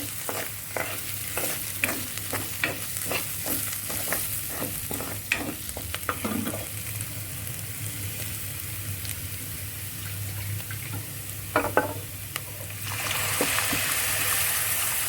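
A spoon stirs masala in a frying pan for toor dal with spinach, a quick run of rhythmic scraping strokes over a steady sizzle, then a calmer stretch of frying with a couple more stirs.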